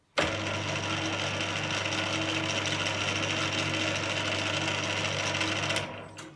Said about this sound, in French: Vous avez entendu le bruit de fonctionnement du tour à ces différentes plages de vitesse.